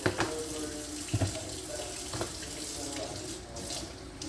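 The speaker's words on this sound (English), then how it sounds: "I just run them under the water to get them wet because it makes it easier to cut." Tap water runs over potatoes in a kitchen sink, a steady close splashing stream broken by a few brief louder knocks and handling sounds as the potatoes are moved under the flow.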